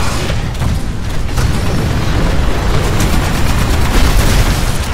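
Continuous heavy turret fire in the sci-fi shooter Titanfall, a dense, loud, unbroken barrage of rapid shots and booms filling the whole stretch without pause.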